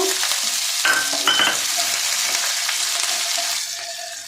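Chopped onion frying with garlic in a pan, a steady loud sizzle with a few clinks and scrapes of a spatula as it is stirred, no talking.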